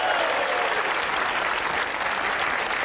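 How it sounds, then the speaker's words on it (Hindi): Studio audience at a Pakistani comedy talk show bursts into steady, dense applause, full and even for the whole stretch with no voices over it. "तालियां बजाइए अपने लिए।"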